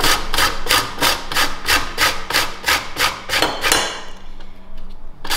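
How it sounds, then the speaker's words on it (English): Green mango is grated by hand in about ten rhythmic downward strokes, each a loud scraping rasp, before the strokes stop and one last faint scrape follows. "And thereafter, we start to grate."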